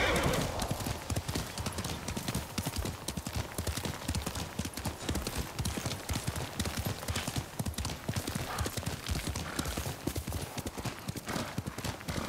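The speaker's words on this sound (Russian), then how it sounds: "Славный конь." Horse hooves clip-clop loudly in Ghost of Tsushima, a close and continuous run of quick hoofbeats that lasts the whole stretch.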